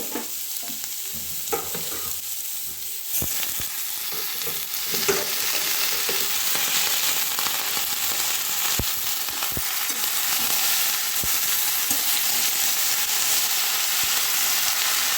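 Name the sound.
stirring vegetables frying in pan with spices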